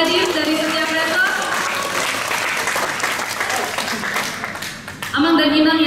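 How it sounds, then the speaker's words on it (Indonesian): Seminar audience applauds attendees from each church district, a dense steady clatter of many hands filling the room at close range for several seconds, with voices mixed in and a brief dip before it swells again. "Boleh beri tepuk tangan untuk yang hadir dari setiap resort"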